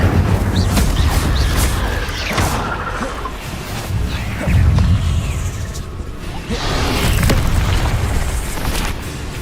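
An Incendio fire spell is cast in combat in Hogwarts Legacy, producing heavy whooshing bursts and booming fiery blasts. The blasts overlap with other loud battle effects in a dense, continuous clash.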